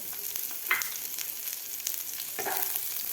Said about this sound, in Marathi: आपल्याला आता हा कांदा कापून घेतलेला भाजायचा आहे